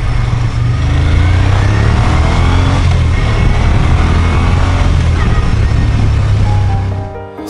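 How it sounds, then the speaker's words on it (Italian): A 2009 Moto Guzzi Griso 8V 1200 motorcycle engine pulls steadily with a deep, loud, throbbing low rumble, heard up close from the rider's position for several seconds before it fades at the end, with no talk. "a bassi regimi è quasi trattoristico, quindi senti il motore che proprio lavora per poi allungarsi in alto."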